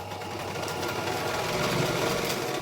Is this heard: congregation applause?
no